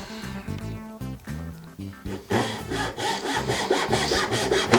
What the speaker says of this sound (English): I line up the right side set with my scribe line and go the opposite way that my saw cuts